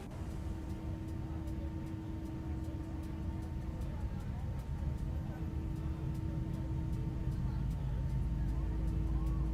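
CFM jet engine of a ToLiss A321 in the X-Plane 11 flight simulator spooling up, a continuous loud rumble with a steady hum that builds slightly over the stretch, with no other sound standing out.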